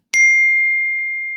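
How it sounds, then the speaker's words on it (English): A single bright phone notification ding rings out cleanly and decays slowly in otherwise quiet surroundings. "excuse my phone"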